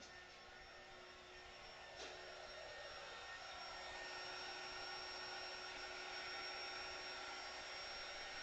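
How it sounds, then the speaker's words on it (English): A heat gun runs with a steady, loud blowing whoosh and a faint whine in it. It stays continuous and close for the whole stretch, with one small click near the start and no talking. "Let me get my heat gun."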